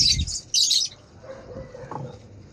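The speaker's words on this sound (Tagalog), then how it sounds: "Ito mga ibon ko mga idol." Two short, bright bursts of bird chirping sound close by, followed by soft rustling and faint calls.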